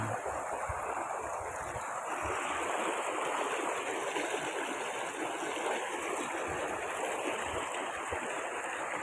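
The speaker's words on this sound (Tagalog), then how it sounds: "Ang ganda ng agos ng tubig." Clear mountain stream flowing over rocks in the hills of Ilocos Sur, a steady close rushing and splashing that holds constant throughout, with no voices.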